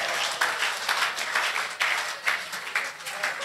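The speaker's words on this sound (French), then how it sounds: "On applaudit la question, on applaudit la question." Audience applause at a church teaching session on the authority of the believer, a steady wash of many hands clapping with uneven surges, heard fairly close and continuing throughout.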